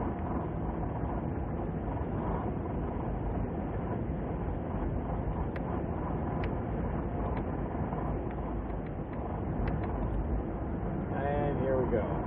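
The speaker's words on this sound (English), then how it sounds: "Pardon the noise, it is very windy here." Strong wind buffets a roadside microphone as a big storm approaches beside a highway ramp, a loud, steady low roar that fills the whole stretch without letup.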